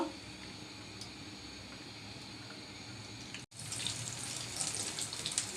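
Small chicken spring rolls fry in oil heated to medium-low, producing a steady, dense hiss. The sound breaks off for a split second, then returns slightly louder and brighter.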